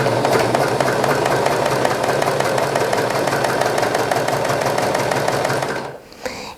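A serger stitching along a fabric napkin, its loud, fast mechanical chatter running steadily and close, then slowing and stopping near the end.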